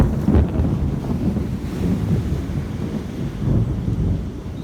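Heavy thunderstorm outdoors, a loud low rumbling roar with gusty wind buffeting the microphone, swelling and easing continuously without talk.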